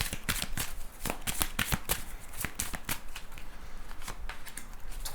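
Tarot cards shuffled and dealt during a love reading, a steady run of crisp papery riffles and snaps, close and fairly loud, with no talking over them.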